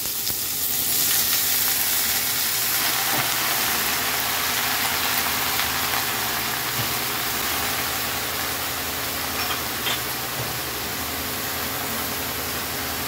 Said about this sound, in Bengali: তেলের মধ্যে দিলাম কালো জিরে, আবার একটা কাঁচা লঙ্কা, তারপরে লাউটা ছেড়ে দিলাম।